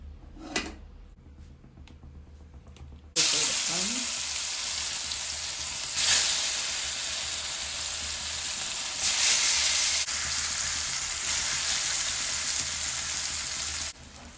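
Marinated vegetarian fish pieces drop into hot oil in a pan and erupt into a loud, continuous sizzle close by, swelling twice as they are moved. The sizzle follows a quieter start with a few clinks.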